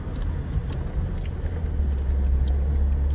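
A diesel vehicle crawls off-road in fourth gear at about six miles an hour, its engine a steady low rumble with a continuous drone that holds close and even throughout.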